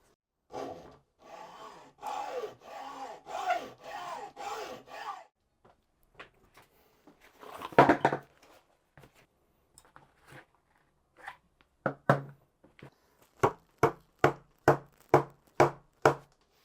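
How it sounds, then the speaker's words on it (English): A metal saw cuts wood to shape a part for an instrument, with sawing in a quick run of strokes at first, scattered knocks and rubs in the middle, then a closing series of sharp, evenly spaced strokes, close and alone. "I know this is a metal saw."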